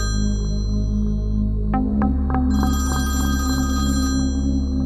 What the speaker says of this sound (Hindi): फोन की घंटी पूरे घर में गूंजने लगी